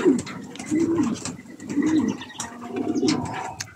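Pigeons coo close by in soft, rolling repeated calls, several in a row, in a room housing pigeons and chickens, with faint rustling and background noise around them.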